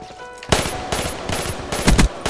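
Rapid bursts of assault rifle fire in Call of Duty Black Ops 3, four loud, close automatic volleys in quick succession with no talk.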